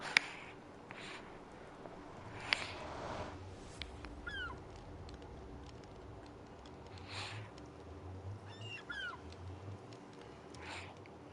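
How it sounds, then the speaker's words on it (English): Seagulls call within a video game world, several faint, brief cries scattered over a quiet low ambient hum. "by the sounds of it, it's seagulls, so mine works"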